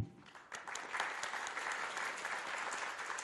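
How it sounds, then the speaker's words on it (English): Quiet, distant applause from a philosophy of education conference audience starts after a brief pause and carries on at an even, moderate density. "we must clap for her"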